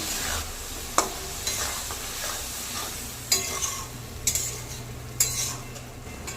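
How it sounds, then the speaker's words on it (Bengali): Eggplant stir-fried in spice paste sizzles steadily while a spoon scrapes and knocks against the pan in several sharp, irregular strokes. "বেগুনটা দিয়েও আরও 1 মিনিটের মতো একটু ভালো করে কষে নেব।"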